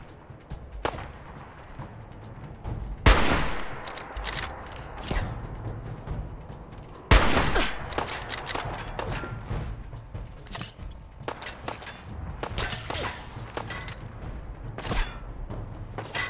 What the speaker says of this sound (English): I have no idea where you're shooting me from.